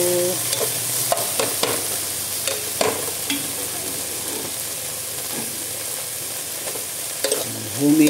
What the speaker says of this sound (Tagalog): Igisayin natin yan para masarap ang luto natin ng munggo.